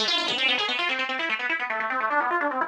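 Tritium, a Max for Live audio effect device, processes a synth line into a dense, buzzing, distorted texture with stepped pitch changes, continuous and close, with no voices.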